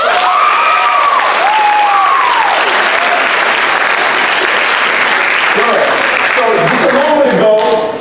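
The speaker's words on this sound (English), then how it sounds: "Give me a round of applause." A school assembly crowd bursts into loud applause and cheering, with whoops and shouted voices rising over dense clapping that stays strong throughout before cutting off.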